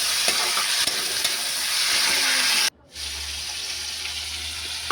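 Khichuri base of ginger, tomato and salt frying and being stirred in a pan, a loud continuous hiss with occasional spoon scrapes that cuts off abruptly, followed by a quieter low hum.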